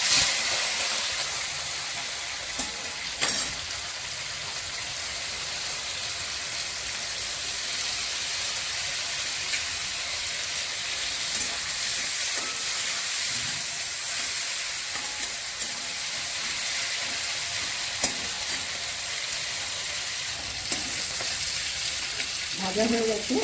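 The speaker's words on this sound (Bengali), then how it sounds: "এটা সর্ষের তেলে করব। চিংড়ি মাছগুলো ভেজে নিচ্ছি।" Prawns frying in mustard oil in a kitchen, a loud, continuous crackling sizzle that holds steady throughout, with occasional spatters and utensil knocks.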